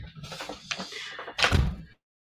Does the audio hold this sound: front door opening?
yes